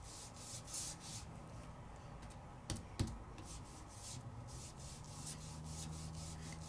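Paper being coloured with Jacquard Lumiere shimmer paint gives a soft, continuous rubbing and brushing sound close by, with a couple of sharper taps near the middle and no talk.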